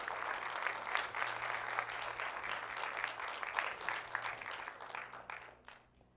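A congregation at a Spanish-language church service applauds loudly and steadily for several seconds, the dense clapping fading toward the end.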